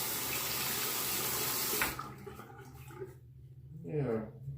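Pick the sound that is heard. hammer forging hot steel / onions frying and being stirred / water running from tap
water running from tap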